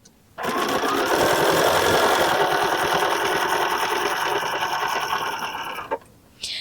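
A sewing machine stitches a quarter-inch quilt seam in one loud, continuous, rapid mechanical run, then stops abruptly near the end.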